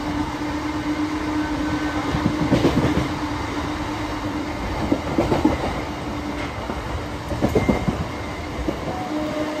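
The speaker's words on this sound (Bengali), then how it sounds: "বেলগড়িয়া স্কিপিং ফুল স্পিডের সাথে পাস করছে বেলগড়িয়া" Sealdah–Godda fast passenger train skipping Belgharia station at full speed, about 110 km/h, heard on board as a steady rumble with rhythmic clickety-clack bursts over rail joints and points.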